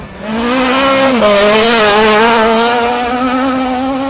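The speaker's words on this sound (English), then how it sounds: "Armstrong has been in ripping form all season long in the Toyota Starlet" A Toyota Starlet race car at the King of the Hill hillclimb in Barbados roars close by, revving loud and steady with its engine note rising and dipping as it passes.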